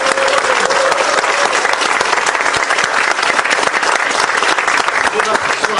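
Sustained, loud applause from the audience at the Seoul chapter founding convention of the Progressive Justice Party, approving the party's new committee chairs and vice-chairs, steady clapping throughout with no talk.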